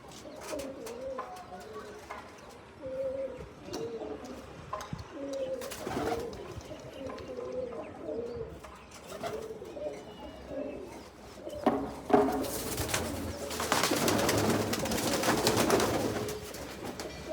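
Pigeons coo in soft repeated rolling calls close by, joined by other bird chirps, with a burst of fluttering noise near the end.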